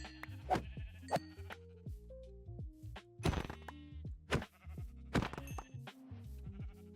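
Sheep bleating in the Minecraft video game, several short synthetic bleats in quick irregular succession alongside soft game thunks, fairly close and clear with no talking.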